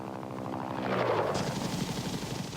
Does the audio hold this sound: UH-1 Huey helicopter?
yes